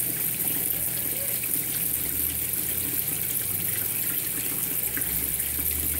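A Consul 16 kg washing machine fills with water in a steady, continuous rush and hiss, a constant broadband flow with a low hum underneath, close and unbroken throughout.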